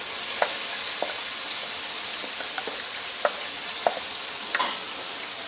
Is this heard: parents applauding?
no